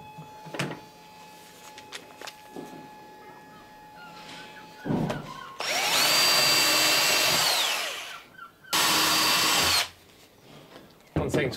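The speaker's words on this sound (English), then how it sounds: "So we can happily drill those holes knowing we're in the right place." A power drill bores holes through clinker-built small boat planks in two loud, sustained bursts of whirring, the first about three seconds long and the second shorter, with quiet workshop handling noises and faint movement between them.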